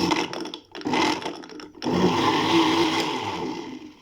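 A kitchen blender whirs through mint margarita with ice and 7 Up in two loud bursts, a short break between them, with no talking.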